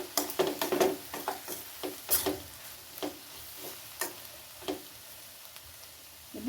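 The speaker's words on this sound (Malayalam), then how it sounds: "ഈ 1 ടേബിൾ സ്പൂൺ വെളിച്ചെണ്ണ ഇളക്കി നല്ലോണം ഇളക്കി മിക്സ് ആക്കിയതിന് ശേഷം ഫ്ലെയിം അങ്ങ് ഓഫ് ചെയ്ത് കൊടുക്കുക" A tablespoon of coconut oil is stirred into a sardine curry in a pan: quick clattering scrapes and light taps of the spoon over a soft sizzle, close and steady, with no talking.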